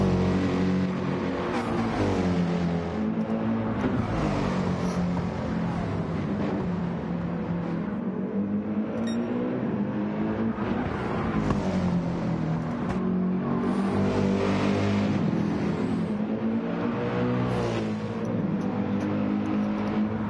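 Race cars at Deep Forest Raceway in Gran Turismo 7 roar continuously, engines revving and shifting with a steady loud drone throughout, no speech heard.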